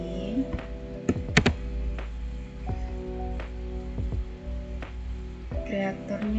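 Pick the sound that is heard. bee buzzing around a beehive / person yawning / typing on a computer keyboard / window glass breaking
typing on a computer keyboard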